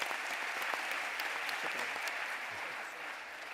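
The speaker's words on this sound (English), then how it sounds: "Can we give them a nice round of applause?" A round of applause from a cybersecurity forum audience, dense clapping that starts strong and eases slightly toward the end, with a few louder claps standing out and no speech over it.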